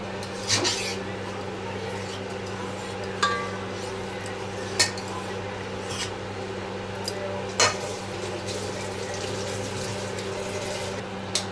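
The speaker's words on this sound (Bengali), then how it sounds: "চলো দম দেওয়ার জন্য হাঁড়িটা সাজিয়ে নিই সেট করে নিই" A cooking pot for dum-style biryani is set in place in a home kitchen, giving a few scattered metallic clinks and knocks over a steady low background hum.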